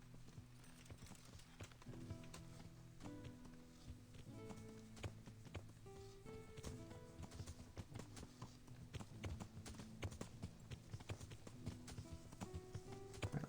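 Horse hooves pounding at a steady gallop in the medieval game Kingdom Come: Deliverance, a dense, continuous clip-clop over layered game music, close and fairly loud throughout.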